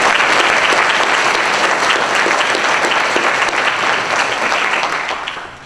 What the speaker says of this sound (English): y'all need to give them a round of applause for working so hard for you.